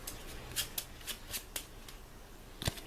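A few quick riffles of a Marvel Champions card deck being shuffled up close, soft papery bursts spaced out at an uneven pace.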